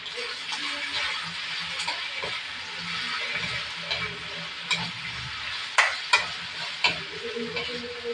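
Pork sisig sizzling on a hot plate while being stirred through mayonnaise, a steady close crackling hiss with scraping stir strokes and a few sharp utensil clinks near the end.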